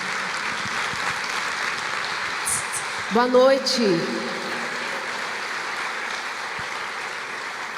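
An audience applauds steadily for a woman doctor being welcomed to the stage at a talk, with a brief spoken greeting over the clapping partway through.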